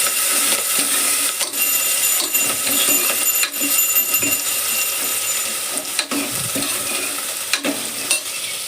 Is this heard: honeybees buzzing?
no